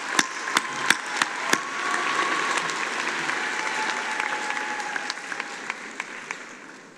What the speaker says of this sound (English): Please recognize her and the excellence she represents with your applause.